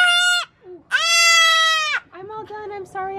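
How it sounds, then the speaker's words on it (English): Baby goats on a farm bleating in loud, close, harmonic cries: two long calls in the first two seconds, then shorter overlapping bleats that trail off, with no talking. "Fiona is number 9 of all the baby goats born on our farm this year"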